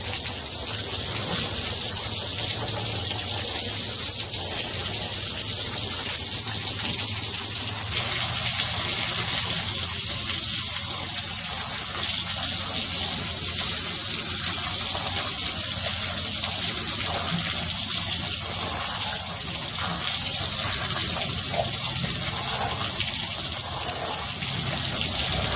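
A heavy stream of water pours steadily onto flood bags, a loud continuous gushing hiss that lasts the whole time without a break.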